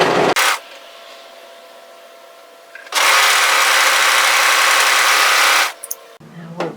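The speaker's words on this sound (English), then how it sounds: "when we serge overlock, we're not going to cut any fabric off, we're just going to use that blade to tidy up our fabric." A serger overlock machine runs at speed, stitching and trimming the edge of fabric for a balaclava hood, starting with a short burst, then a softer hum before a loud steady whir of about three seconds that stops abruptly.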